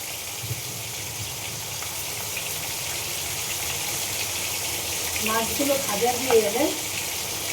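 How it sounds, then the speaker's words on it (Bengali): Fish fry in oil in a pan, a soft steady sizzle running throughout, with a brief voice murmuring near the end. "এবার একটু নাড়াচাড়া দিয়ে নেব, একটু মাছগুলোকে ভাজতে দেব।"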